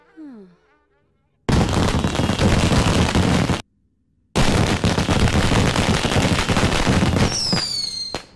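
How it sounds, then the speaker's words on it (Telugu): Two long bursts of dense, crackling pops, each lasting a couple of seconds with a short pause between, loud and close, ending with a high whistling squeal. "మాయా టపాకాయలు బాబు వెళ్తున్నాయి."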